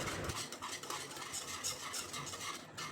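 Milk powder being whisked for mango burfi, a quick continuous rhythmic scraping and swishing of a whisk against a bowl or pan, close and steady for a few seconds with no voices.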